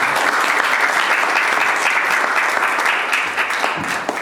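Congregation at a Thanksgiving church service breaks into steady, full applause, many hands clapping continuously and fading slightly toward the end.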